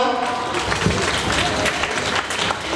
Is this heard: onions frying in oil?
no